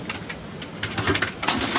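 A racing pigeon coos in a loft, soft rounded calls repeating a few times up close over faint rustling and background sounds.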